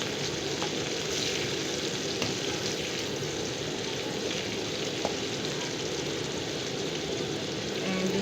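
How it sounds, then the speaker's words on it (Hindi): Green chilies fry in hot oil for a village-style tomato chutney, giving a steady, unbroken sizzle that holds at an even level throughout, with no voices. "हरी मिर्चें जब भी हम फ्राई करते हैं तो बहुत ही अच्छी खुशबू आती है।"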